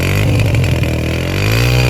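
A 2024-model motorcycle engine revs steadily and loudly, a continuous mid-pitched drone with strong harmonics and a slight rise in pitch near the end, heard up close at a used bike market in Karachi.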